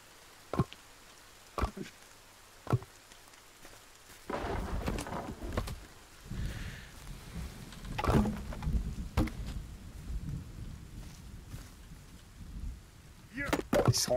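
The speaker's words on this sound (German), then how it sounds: "Der Regen hört sich übel gut an." Rain patters steadily during a thunderstorm in the survival game Sons of the Forest, a soft wash of noise that starts after several sharp clicks, with someone talking over it and occasional heavier knocks.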